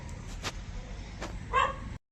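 A dog gives short, sharp barks and yips at a moderate distance over steady outdoor background noise, with a louder bark near the end.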